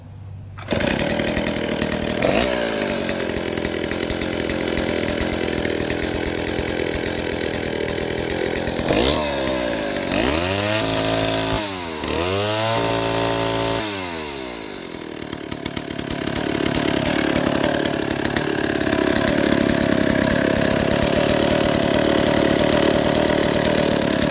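A small 100cc 1957 IEL Pioneer RA vintage direct-drive two-stroke chainsaw with dual exhaust runs loudly and steadily, revving up and down midway before settling back into a rough, continuous idle.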